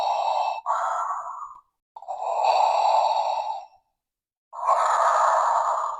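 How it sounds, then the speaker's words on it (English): A Star Wars Funko POP figure plays an electronic breathing sound effect: three long, mechanical, raspy breaths with short silent gaps between them, close and clear with no talking. "this was his breathing effect"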